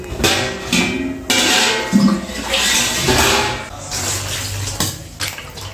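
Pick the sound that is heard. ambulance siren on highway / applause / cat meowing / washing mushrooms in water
washing mushrooms in water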